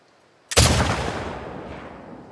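A single loud, close gunshot from The Last of Us Part II, an abrupt crack with a long booming tail that slowly fades, and no voices.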